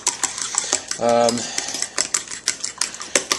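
An omelette egg mixture with pepper, cheese and meat being mixed in a bowl, rapid clinking taps of a utensil against the dish in quick bursts, with a short scraping swirl midway, close and fairly crisp.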